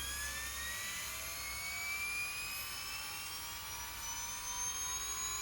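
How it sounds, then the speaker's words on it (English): A spinning flywheel on a Losi Promoto-MX RC motorcycle gives a steady, high-pitched turbine-like whine with rising tones, continuous and fairly close, no talking. "That's really moving, that flywheel."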